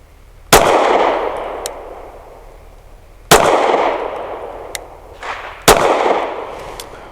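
Three loud pistol shots from a Sig P320 firing Federal Premium HST 147 grain rounds, each a sharp crack followed by a long decaying echo, spaced roughly two and a half seconds apart on an outdoor range.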